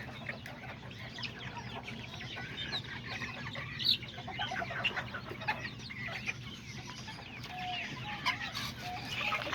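Several hens, some sitting on eggs, clucking softly and continuously, with scattered higher chirps, fairly close in a quiet setting.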